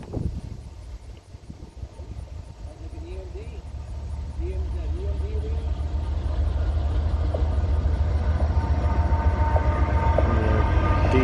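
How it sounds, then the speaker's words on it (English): A southbound Norfolk Southern freight train rolls past Shenandoah Junction with a heavy, steady rumble that grows louder over time, a horn-like tone sounding partway through while someone talks. "comes the southbound train."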